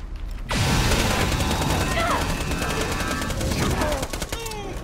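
Revolver gunfire in Borderlands 2, a run of sharp shots cracking out over busy in-game combat noise, with mechanical clicks and scattered effects between the shots.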